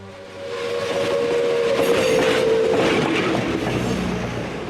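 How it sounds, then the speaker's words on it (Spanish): A train rumbles past close by, a steady roar of wheels on track with a sustained horn-like tone early on, no voices. "Los trenes cargados con todo el inmenso botín llegaron a Parral, mientras que Villa con sus generales haría"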